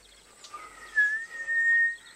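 A very quiet mouth whistle rises into a thin sustained tone, wavering slightly and fading in and out over a couple of seconds.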